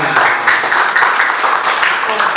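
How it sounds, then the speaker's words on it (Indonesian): Applause from an audience at a gathering of Banyuwangi arts practitioners with cultural officials in Muncar, steady dense clapping held at a constant close level for a few seconds. "tepuk tangan."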